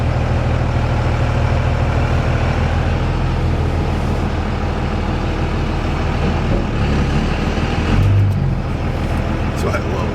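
Steady low diesel drone from a 2002 Dodge truck with a Cummins engine and aftermarket exhaust, heard from inside the cab as a constant rumble with a brief change around the middle, while someone talks over it.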